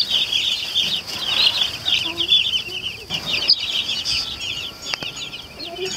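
A brooder of about fifty young Cornish Cross broiler chicks gives off a dense, continuous chorus of high peeping and soft clucks, close and steady, with faint rustling underneath.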